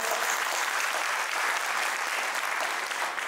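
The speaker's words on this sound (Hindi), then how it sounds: "तो एक तालियां नहीं होना चाहिए इसके लिए।" Audience applause at a third-anniversary event during a health talk, a steady dense wash of many hands clapping throughout, loud and close with no pauses.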